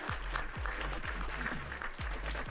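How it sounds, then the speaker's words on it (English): Quiet applause rolls in for Rambling Geek during a livestreamed web and application security Q&A, sounding soft and somewhat distant, with repeated low thumps pulsing through the wash of clapping. "Round of applause for Rambling Geek."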